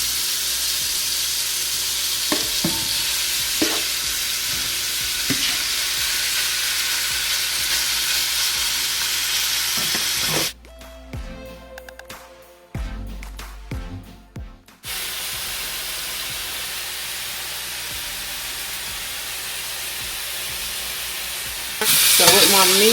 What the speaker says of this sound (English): So with my meat nicely sauteing like this